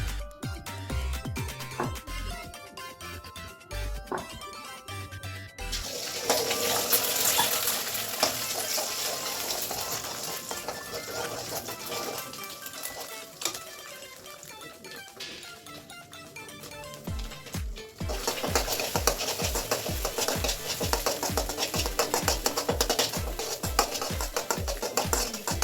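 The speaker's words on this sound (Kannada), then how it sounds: "ಹಾಗೆ ಇನ್ನೊಂದು ಬಾಣಲಿ ಮೊಟ್ಟೆನ ಫ್ರೈ ಮಾಡ್ಕೋಬೇಕು." Eggs frying in oil in a pan, a steady broadband sizzle with occasional stirring, loud and close, growing denser toward the end with rhythmic scraping strokes; no talking.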